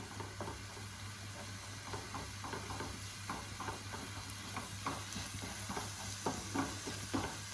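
Spinach and egg being stirred in a pan over a full flame, repeated scraping strokes over a continuous close sizzle, with a low steady hum beneath.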